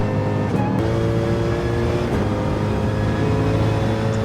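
A race car in a racing video game pulls out of the pit lane, its steady engine drone loud and continuous with a faint rising tone, and no voices over it.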